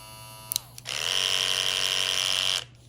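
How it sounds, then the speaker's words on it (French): Oster Classic 76 cordless hair clipper switched on after a couple of clicks, buzzing loudly and steadily with a high whine for under two seconds before cutting off abruptly. "Ça fait le bruit d'un tracteur, dans le fond."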